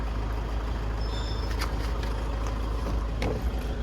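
A Toyota Fortuner's 2KD diesel engine rumbles steadily and loudly close by, a dense low drone with a few faint clicks and no clear change in pitch.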